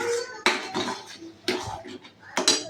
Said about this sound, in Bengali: ধনে পাতাটা দিয়ে বেশ ভালো করে নাড়িয়ে নিয়েছি